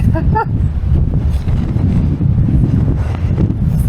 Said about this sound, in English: I'm gonna go into the wind.